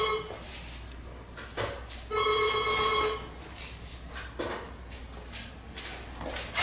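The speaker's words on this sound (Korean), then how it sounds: "한 달이면 서너 번 울릴까 말까 하는 전화가 이 시간에." A telephone rings indoors in a quiet room, giving two or three bursts of shrill electronic trilling separated by pauses, with faint background noise between.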